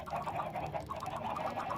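Many video-game chickens on an automatic chicken farm cluck in a dense, continuous, overlapping chatter of repeated fowl calls, loud and close with no talk.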